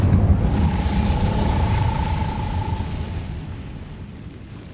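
A fire spell cast in Hogwarts Legacy erupts as a loud, dense roaring burst of flame that rumbles on for several seconds and slowly fades, with no voices over it.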